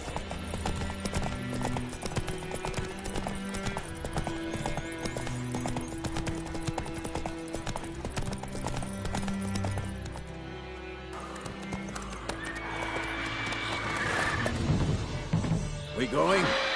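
Roach, the horse in the Witcher 3 video game, gallops with rapid, loud hoofbeats under game music, and a neigh breaks out near the end as the scene grows noisier, with speech heard in the game.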